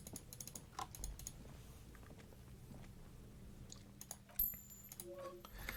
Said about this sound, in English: You hear typing in the background.